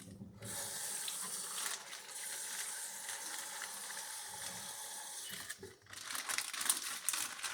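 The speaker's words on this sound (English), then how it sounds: "I'm rinsing these bags out to get what juice I can out of the bags." Tap water runs into a sink while plastic bags that held thawed muscadine scuppernong grapes are rinsed out, the steady splashing broken by crinkling and rustling of the plastic up close.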